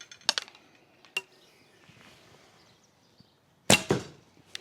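Arrows loosed from a Horchin Mongolian bow by Alibow: two quick sharp snaps early on, another short crack a second later, then a louder, fuller release near the end, each with a brief slap and buzz, close by with quiet between.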